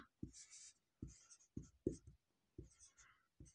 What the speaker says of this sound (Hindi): अब हम यहाँ पर लिखेंगे